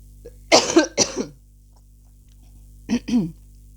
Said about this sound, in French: Pardon, je vais encore tousser.